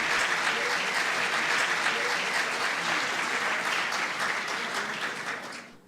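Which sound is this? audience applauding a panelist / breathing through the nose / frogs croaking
audience applauding a panelist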